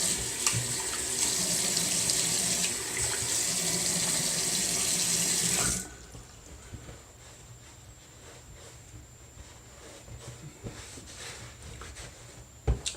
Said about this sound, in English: let me rinse this real quick again